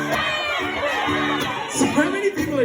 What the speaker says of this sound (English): So many people are shouting, I can't hear a word you're saying.